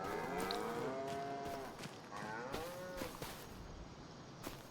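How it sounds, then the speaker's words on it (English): Cattle in the Farming Simulator 25 video game, on a Montana plains farm, low several times in drawn-out moos over a faint steady background, the calls coming in two close groups. "Oh, way too many cows."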